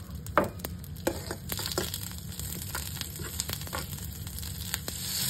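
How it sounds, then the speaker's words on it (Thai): Tomatoes stir-fried in butter in a pan give a steady, close crackling sizzle, broken by scraping stirring strokes and a few sharper pops, with no voices. "เราก็จะใส่มะเขือเทศลงไปผัด กับเนยให้หอมเลย"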